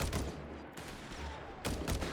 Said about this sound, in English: Shots going off there.